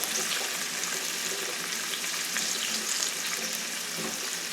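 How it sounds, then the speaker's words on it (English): Radishes fry in butter and oil in a pan, giving a steady, close, broadband sizzle with faint stirring clicks throughout and no talk. "stir them around so that the butter and oil is on all of the radishes"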